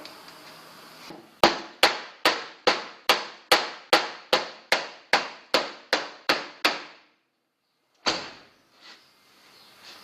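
Hammer tapping a part into adjustment during a Toyota HJ61 restoration: about a dozen sharp, evenly spaced metallic blows in a quick steady rhythm, a short pause, then one more strike, close and loud with no talking.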